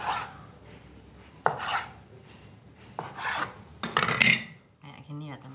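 A knife cuts through odading dough, the Indonesian fried bread, on a board, making several close rasping, scraping strokes separated by short pauses.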